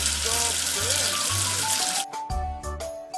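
Cartoon water from a tap washing soap off a toy number 3, a loud hissing spray for about two seconds over light music, then the water cuts off and short musical tones follow.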